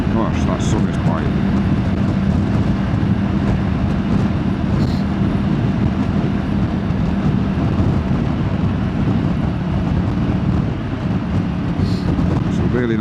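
A motorbike engine drones steadily throughout while riding on a bright morning, loud and continuous with wind rush layered over it.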